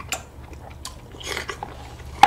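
A mandarin orange being bitten and chewed close to the mic, soft wet crunches and smacks spread over a couple of seconds, ending in a sharper louder bite, with no talking.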